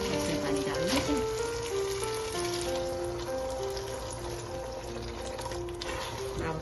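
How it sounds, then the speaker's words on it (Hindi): Water is poured into a cooking pot for chana pulao, a steady stream whose ringing tone rises as the pot fills, heard up close in a home kitchen. "इसमें पानी डाल देते हैं।"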